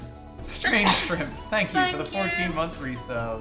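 A single sharp sneeze bursts out near the start, followed by someone speaking close to the microphone.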